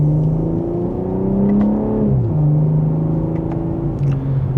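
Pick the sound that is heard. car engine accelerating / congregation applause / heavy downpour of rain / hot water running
car engine accelerating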